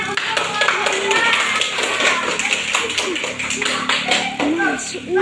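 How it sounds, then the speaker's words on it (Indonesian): A class claps for a student group during a micro-teaching practice lesson, brisk close hand claps ringing out while children and adults talk and call out over the clapping. "kita kasih tepuk tangan untuk kelompok"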